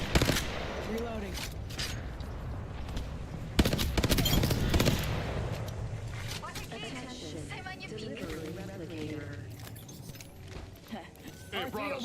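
R-301 rifle gunfire in Apex Legends rattles in bursts, with a heavy volley of fast shots in the middle, alongside in-game voice lines and game effects.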